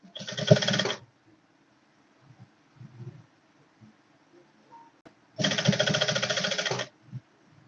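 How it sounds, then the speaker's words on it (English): A sewing machine stitches the sleeves of a corset in two short, steady bursts, one about a second long and a later one lasting around a second and a half, with quiet handling noises between them. "So I'm going to be at sewing the both sleeve by half inch."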